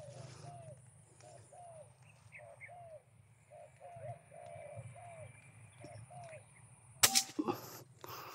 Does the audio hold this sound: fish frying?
no